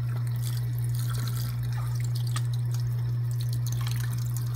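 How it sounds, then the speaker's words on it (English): Water injected into an empty eggshell trickles and drips softly and steadily, with a constant low hum running underneath throughout. "I'm going to fill this up with water, and I'm going to inject a little bit of water in here"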